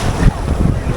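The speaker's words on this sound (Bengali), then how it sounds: "ভালো ঢেউ রয়েছে কিন্তু বকখালিতে" Sea waves wash onto the shore at Bakkhali beach, a steady broad roar of surf with wind buffeting the microphone, loud and continuous across a short moment.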